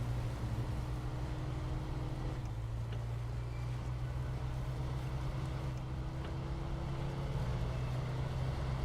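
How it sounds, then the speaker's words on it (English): A heavy off-road truck engine in the SnowRunner video game drones low and steady under strain, a constant loud rumble with slight pitch shifts, no voices. "Just smashing the ever-living crap out of this engine."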